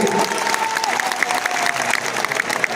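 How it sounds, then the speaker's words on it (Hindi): Loud, dense applause fills a packed auditorium at a political event, a continuous clatter of many hands with some crowd noise mixed in. "आप इनके लिए एक बार जोर से ताली बजाइए।"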